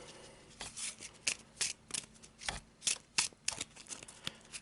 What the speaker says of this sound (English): So again, quick shuffle.